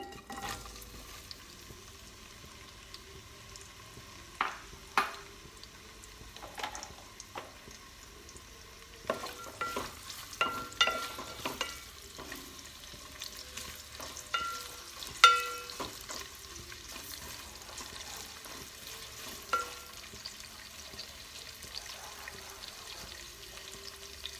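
Onions frying in oil until golden brown for a restaurant-style prawn dum biryani, heard as a soft, continuous sizzle with occasional clinks and scrapes of stirring, fairly quiet and with no talking.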